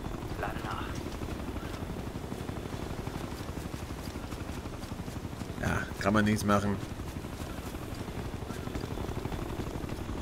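A helicopter in Ghost Recon Future Soldier gives a continuous rhythmic rotor thump throughout, heard beneath someone talking in German.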